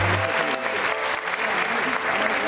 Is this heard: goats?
no